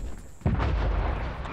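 A single heavy boom of hostile artillery fire in a PS4 video game strikes suddenly and is followed by a deep, rolling rumble that lingers to the end.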